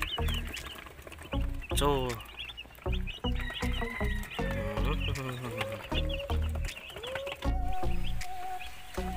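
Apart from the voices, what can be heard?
broiler chickens clucking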